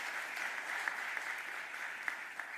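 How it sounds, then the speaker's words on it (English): A large audience at a city mayor's budget address gives a sustained round of applause, a dense even wash of clapping heard from a distance with a few sharper claps poking through. "Please give them a huge round of applause."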